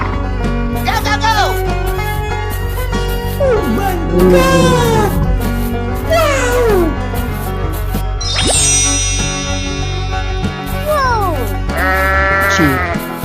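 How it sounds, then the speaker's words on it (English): Sheep bleating amid a busy cartoon-style mix of music, jingles and sound effects, the wavering animal cries repeating over a loud, continuous backing. "Sheep."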